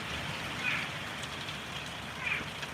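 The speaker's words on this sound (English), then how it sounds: "Look at the heavy rain, guys. The rain is coming down heavy." Steady hiss of heavy rainfall from Tropical Storm Imelda pours without pause, with a couple of faint higher squeaks briefly rising above the wash.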